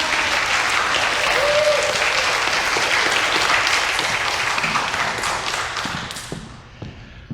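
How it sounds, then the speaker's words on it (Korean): A church congregation gives dense, sustained applause to welcome the pastor at a Sunday worship service. The applause holds steady and loud, then thins out and fades near the end. "우리 목사님 나오실 텐데 우리 박수로 환영하겠습니다."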